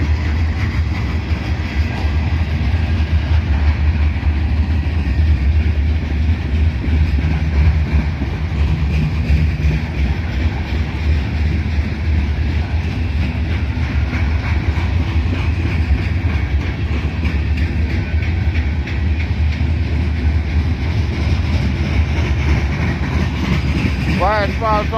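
Freight train rolling through Abbeville, a steady loud low rumble of railcars passing close by for the whole stretch, with faint voices mixed in.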